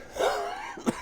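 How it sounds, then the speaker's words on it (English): A sick streamer gives a single short strained cough with throat clearing, close to the microphone, ending in a brief sharp burst. "Start off coughing and dying."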